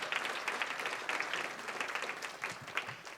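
An audience claps at the City of Alameda State of the City address, producing a dense, even patter of many hands that swells and eases slightly. It sounds moderately distant and fairly quiet.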